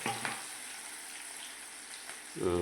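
Ginger and green chillies frying in oil in a pan while cooking a kantola (spiny gourd) curry, a steady soft sizzle running throughout with a louder crackle near the end.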